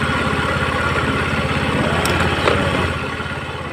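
A Rusi Gala motorcycle engine idles close by after carburetor adjustment, a loud, rhythmic putter that holds steady, then eases slightly toward the end.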